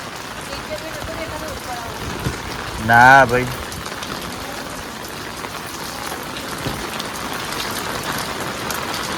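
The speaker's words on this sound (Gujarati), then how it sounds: "અમે વરસાદમાં જોવા આવ્યા કે કેવો વરસાદ પડે છે" Steady patter of rain falling throughout, with a brief spoken exchange and a short vocal sound rising above the hiss near the start.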